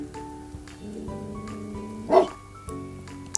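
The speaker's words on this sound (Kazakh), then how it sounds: "Күшік қандай дыбыс шығарады?" A single short, high yip of a puppy barking over a quiet tonal background, preceded by soft whimpering sounds.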